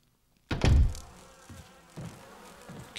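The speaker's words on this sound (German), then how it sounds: "hier sind immer noch Insekten unterwegs" Insects, bees or wasps, buzz faintly and steadily in the video game Resident Evil Remake, following a heavy thump at the start, with a few softer knocks and no talking.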